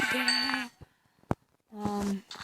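Two bleats from a Minecraft Pocket Edition sheep, a wavering bleat followed by a second after a brief pause, with a short sharp click in the gap between them.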